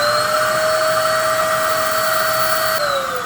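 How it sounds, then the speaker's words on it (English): A vacuum cleaner sucks dirt out of a Toyota Tacoma's suspension area, a loud steady whine with a high tonal hum that holds constant, then dips slightly in pitch near the end. "I'm going to throw the vacuum cleaner on here and suck this out"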